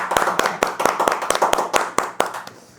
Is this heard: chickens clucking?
no